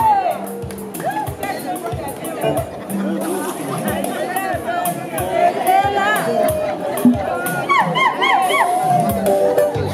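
A wedding aperitif crowd in Geneva cheers and applauds together, a dense mix of clapping, shouts and whoops with voices chattering throughout.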